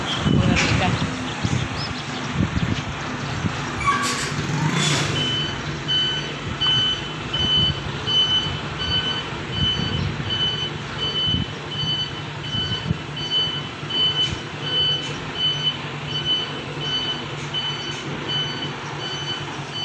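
A heavy truck reverses into a parking spot near a restaurant, its reversing alarm beeping steadily under continuous traffic and engine rumble, with people talking nearby.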